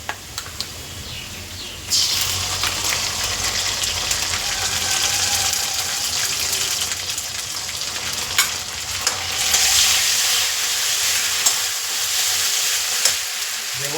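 Taro and onion frying with a ground ginger, garlic, coriander and cumin paste: a loud, dense sizzle that surges after a couple of seconds and holds steady, with occasional stirring clicks and no talk.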